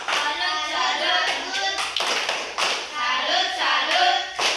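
A primary school class of fifth graders claps a salute clap in a classroom, groups of quick sharp claps in a patterned rhythm mixed with children chanting along, loud and close throughout.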